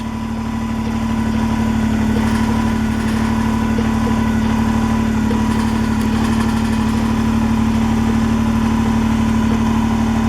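A Kubota BX23S compact tractor with a backhoe attachment idles close by, a steady, even engine drone with a strong hum that holds unchanged throughout, with no voices.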